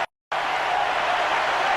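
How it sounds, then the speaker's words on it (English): Cricket stadium crowd applauding and cheering at an India versus Pakistan ODI match, a dense, loud, continuous roar of clapping that bursts in after a brief silence and holds steady to the end. "And the crowd erupts in applause."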